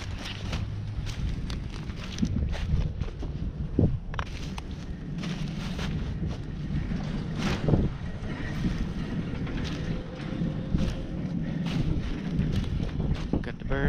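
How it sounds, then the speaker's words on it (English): Gusty wind buffets and rumbles across the microphone outdoors during a sandhill crane hunt near Lubbock, Texas, with water and faint movement sounds mixed in. "Pretty windy."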